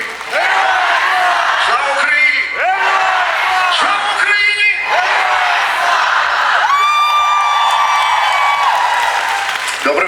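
A concert crowd in Kryvyi Rih cheers and gives a long ovation for the band, a loud, dense roar of voices, whoops and applause that fills the whole stretch, with sustained tones of music or singing rising through it.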